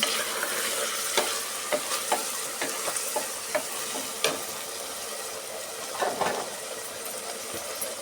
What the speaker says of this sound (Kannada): ಆಯಿಲಲ್ಲಿ ಚೆನ್ನಾಗಿ ಫ್ರೈ ಮಾಡ್ಕೊಂಡು ಮಾಡೋದ್ರಿಂದ ರುಚಿ ತುಂಬ ಚೆನ್ನಾಗಿರುತ್ತೆ ಸ್ವಲ್ಪ ಫ್ರೈ ಮಾಡ್ಕೊಳ್ಳೋಣ ಹಸಿ ಎಲ್ಲ ಹೋಗೋವರೆಗೂ